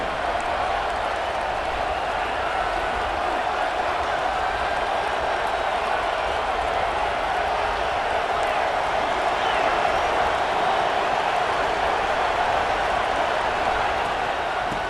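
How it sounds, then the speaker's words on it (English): Loud, steady roar of a college football stadium crowd during a third down in the Texas Tech versus Texas A&M game, a dense continuous wash of voices and noise with commentary faintly underneath. "The crowd electric, trying to help tack on this 3rd down."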